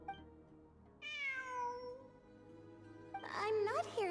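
In Genshin Impact, a cat lets out a long descending meow, then after a pause a pair of quick, higher-pitched mews, clear and near against a quiet game backdrop.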